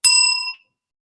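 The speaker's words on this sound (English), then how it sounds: "We will ring a bell 1 minute before timeout." A bright bell rings once at a hardware startup pitch competition, marking one minute left before pitch time runs out; a single clear, close ding that decays within about half a second.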